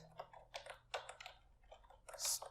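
Computer keyboard typing while entering website names during an online data-entry task, with scattered keystrokes in small bursts at close range, alone without talk.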